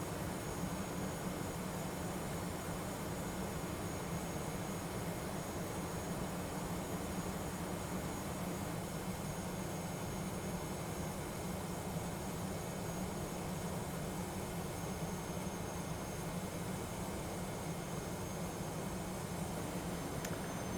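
A TFDI Design 717 airliner cruises at 32,000 feet in the Prepar3D flight simulator, heard as a faint, unbroken broadband engine and airflow drone with a low hum and no voices.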